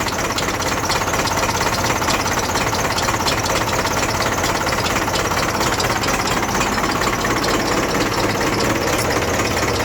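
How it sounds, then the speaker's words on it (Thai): A steady, loud Ford tractor engine drones without pause, its drive belt's rough mechanical whir and rattle continuous throughout, close by. "เสียง สายพานครับ"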